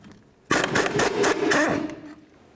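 A ratchet or wrench spins the nut off the upper ball joint pinch bolt on a 1998-2011 Ford Ranger knuckle, a close, loud burst of rapid metallic clicking lasting about a second and a half before fading.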